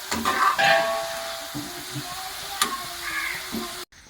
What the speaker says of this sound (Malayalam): ഉള്ളി നല്ല മൂത്ത് വന്നിട്ട് നമുക്ക് കോരിയെടുക്കാം